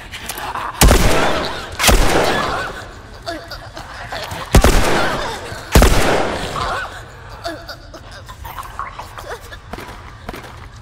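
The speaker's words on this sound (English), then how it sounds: "Nine shots with my pistol." Pistol fire in The Last of Us Part II, four sharp loud shots spaced a second or more apart, each with a short echoing tail, over low game ambience.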